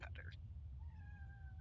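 A pet cat gives a short, close meow and then a thin drawn-out chirp over a low steady hum, with no talking.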